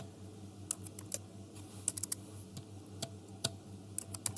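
Keys clatter on a computer keyboard while entering data into an Excel spreadsheet, a run of irregular, fairly close taps and clicks over a steady low background hum, with no talking.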